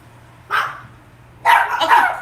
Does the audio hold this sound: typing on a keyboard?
no